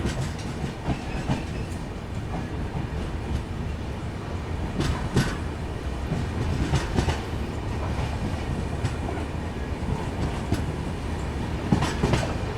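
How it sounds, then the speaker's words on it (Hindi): The Garib Rath Express pulls out of Chakia station, its wheels building into a steady rumbling clickety-clack with occasional sharp clanks as the carriages roll, heard from onboard at moderate level with no talk. "तो भाई 2 मिनट के हॉल्ट के बाद डिपार्चर स्टार्ट हो गया चकिया से।"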